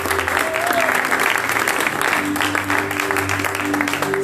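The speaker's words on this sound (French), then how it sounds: "On acclame pour elle." A church congregation applauds the pastor during a service, dense, sustained clapping from a large crowd with a held tone underneath, loud and close throughout.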